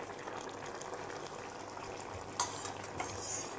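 Hilsa fish curry with cumin paste being stirred in a pan: a soft, steady sizzle and bubble runs throughout, with a few brighter scraping clinks of the spoon against the pan toward the end.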